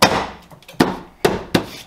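A plastic interior trim panel on a 2015 Toyota RAV4 is pressed back into its clips, giving four loud, sharp snaps spaced unevenly, each a close, hard knock with a short decay.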